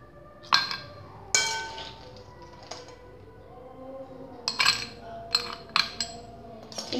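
Ice cubes drop and clink against a glass while a bowl of Indonesian es campur is prepared, giving a series of sharp, close taps with quiet pauses between them.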